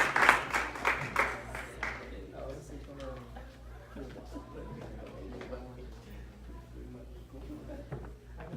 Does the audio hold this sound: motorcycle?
no